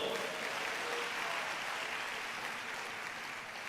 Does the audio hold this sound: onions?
no